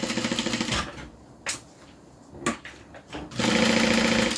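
Sewing machine stitching a fabric seam for a drawstring dust bag, a loud rapid mechanical chatter that stops, gives way to a few isolated clicks and thumps, then starts up again in a steady run.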